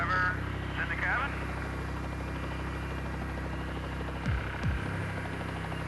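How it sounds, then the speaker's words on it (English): A rescue helicopter holds a steady hover over the sea beside a sinking boat, its rotor and engine making a constant loud drone throughout, with brief mechanical sweeps near the end and voices over it. "The pilots must hold the chopper in a steady hover until Eric has fully administered the necess"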